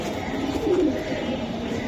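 Silver Giribaz pigeons at a wholesale loft give a low, brief coo mid-clip, set against a continuous hum of background noise.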